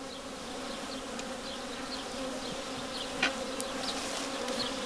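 Agitated honeybees buzz steadily around an opened hive that has recently swarmed, a dense continuous drone close by with individual insects zipping past the microphone.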